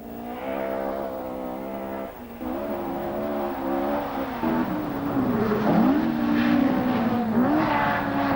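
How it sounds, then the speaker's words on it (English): A 2-litre Ford Escort RS 1600 rally car engine roars at full throttle, revving up and down through gear changes with a rising, droning howl that stays loud throughout. "The sight and the sound of a 2-litre Escort RS 1600 in full cry was always impressive"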